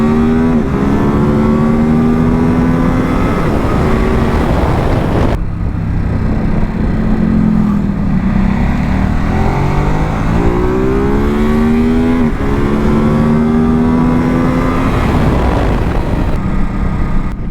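2023 Ducati SuperSport 950S motorcycle accelerating hard through gears, loud engine revs rising in pitch then dropping at each shift, with rushing wind, close and continuous.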